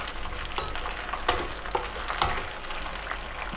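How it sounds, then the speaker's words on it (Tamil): Green chillies frying in hot oil for Andhra-style lemon rice, a steady close sizzle broken by a few sharp scrapes of a spoon stirring them around the pan. "சேர்த்து எல்லாத்தையும் நல்லா ஃப்ரை பண்ணிக்கலாம்"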